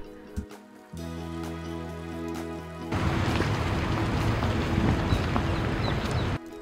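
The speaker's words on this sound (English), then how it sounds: "it heavy downpoured literally as soon as we got to the top" Heavy rain pours down at the Acropolis in Athens. A low hum comes first, then a dense, hissing downpour bursts in suddenly and drums steadily until it cuts off near the end.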